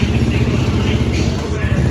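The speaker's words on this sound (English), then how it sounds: "It runs, it just doesn't stay running." A go-kart buggy engine runs and idles slightly high after being revived, giving a loud, close, steady mechanical drone with a low throbbing pulse throughout.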